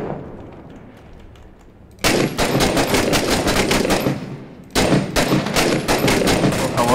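Rapid automatic gunfire from the video game Six Days in Fallujah, loud and close, in two sustained bursts after a low rumbling lead-in.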